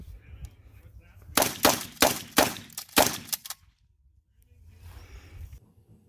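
A Norinco 97 pump-action shotgun, a Chinese copy of the Winchester 1897, slam firing on a range: five rapid loud blasts in quick succession, then quiet with faint outdoor noise.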